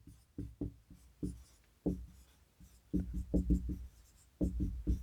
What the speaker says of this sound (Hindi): यहाँ पे एक लाइन लिख रहा हूँ